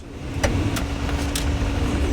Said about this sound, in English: he hopped in the car with us and we made our way down the interstate out to the valley